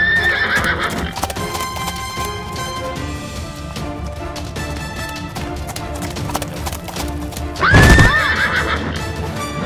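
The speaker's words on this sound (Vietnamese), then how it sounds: "Đi ra mau, con ngựa lười biếng này." A cartoon horse whinnies loudly and its hooves clip-clop steadily under a music score, with a sharper, louder neigh near the end.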